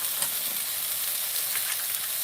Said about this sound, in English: I'm starting to get good searing on my mushrooms